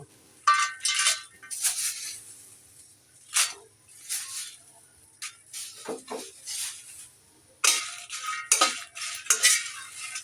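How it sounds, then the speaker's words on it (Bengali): Dry red chillies being dry-roasted in a pan for a mashed bharta, with repeated stirring scrapes and light metallic clinks, close by in short irregular bursts with no voices. "এখন আমি শুকনো মরিচ টেলে নিব ভর্তার জন্য"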